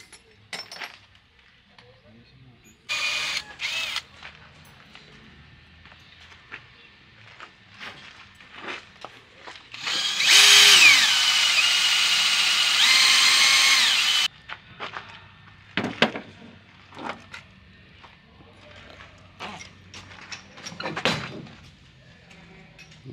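A power drill whirs loudly for about four seconds while driving bolts into a UTV swing arm to tighten it, amid quieter clinks and shop handling noises, with people talking nearby.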